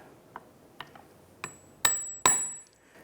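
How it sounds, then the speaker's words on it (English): Metal clicks and taps as pliers fit a lock ring onto a Toyota Tundra driveshaft center support bearing, several small ticks building to two sharp ringing metallic snaps near the end, close and with no talking. "So we're going to go ahead and use a pair of pliers. Get your lock ring lined up."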